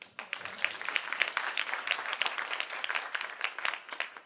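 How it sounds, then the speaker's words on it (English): Audience at a graduation ceremony clapping for graduating students, a dense, steady patter of many hands with sharper individual claps standing out, sustained throughout at moderate loudness. "can you clap for every student?"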